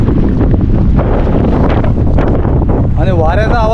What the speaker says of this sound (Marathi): आणि वाऱ्याचा आवाज तर एवढा जोरात आहे